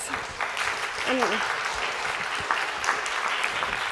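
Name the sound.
audience round of applause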